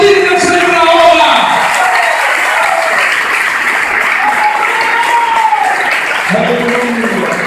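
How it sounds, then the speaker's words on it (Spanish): Church congregation applauding during a worship gathering, a steady sustained wash of clapping with voices and singing woven through it throughout. "Vamos a aplaudir al Señor ahora."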